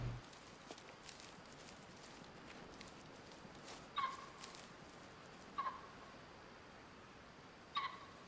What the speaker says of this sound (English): I can hear pheasants, but it's hard to tell where that's coming from